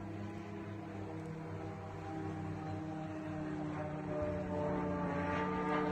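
A Ukrainian kamikaze drone flies overhead with a steady, droning propeller-engine buzz, a continuous tonal hum that holds level and grows slightly louder toward the end, with no voices.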